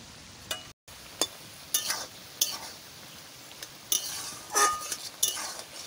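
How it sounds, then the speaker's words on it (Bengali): Chicken pieces for chilli chicken go into a hot pan, with faint frying under scattered clinks and scrapes of a utensil stirring, the sharp knocks coming in irregular bursts. "এবারে আমি মাংস দিয়ে দিচ্ছি, চিকেন দিয়ে দিচ্ছি।"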